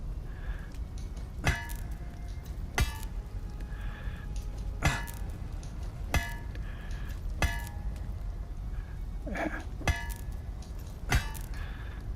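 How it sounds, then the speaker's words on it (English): Chiselling a blade at the forge in the Blades of Fire video game, evenly spaced sharp metallic clangs ringing out about every second and a half, each with a bright ringing tail over a low background hum. "I'm supposed to chisel it down."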